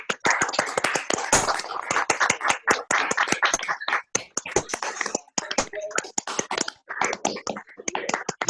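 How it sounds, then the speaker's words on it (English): Online audience clapping for Rajeevbhai after a talk, a scattered run of sharp individual claps from unmuted participants, uneven and close, lasting several seconds. "give a round of applause to Rajeevbhai, please"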